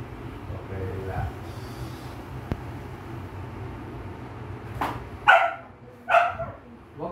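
A dog barks a few sharp, close times near the end, over steady background noise and people talking, in a home where someone is tending a swollen sprained ankle.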